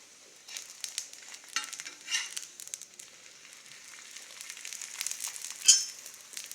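Parotta frying in plenty of oil on a home pan, giving a soft, steady sizzle with light crackles and a few sharper pops, close but fairly quiet, no talking.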